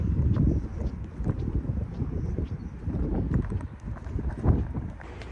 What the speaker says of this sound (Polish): jest zimny, lodowaty wiatr